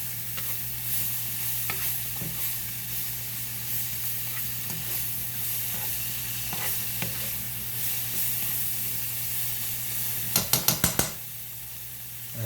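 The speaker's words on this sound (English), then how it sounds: "Mix those mushrooms" Mushrooms sizzle steadily in a hot pan for a carbonara while being stirred, a constant frying hiss with occasional soft scrapes, then a brief burst of rapid metallic clatter from the utensil near the end.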